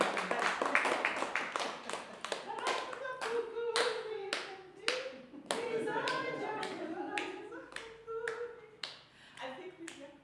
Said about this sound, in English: Are we going to clap?